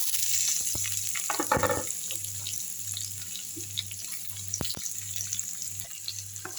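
Sliced onion and garlic drop into hot coconut oil already crackling with mustard seeds, giving a sharp sizzling burst that settles into a quieter, steady frying hiss with a few clicks.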